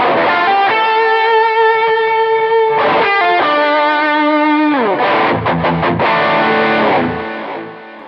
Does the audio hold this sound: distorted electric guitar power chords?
yes